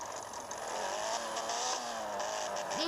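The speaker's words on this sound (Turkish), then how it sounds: "iyi yapmış araba sesini" A continuous synthetic Tofaş car engine drone with shifting pitch, steady and unbroken, sounding like a game's looped motor.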